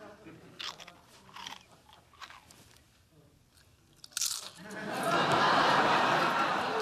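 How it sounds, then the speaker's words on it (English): Crunching noises come from under a bed in a sitcom scene. Several soft bursts of crunching are followed by a swell of studio audience laughter. "There's a crunching sound coming from under your bed."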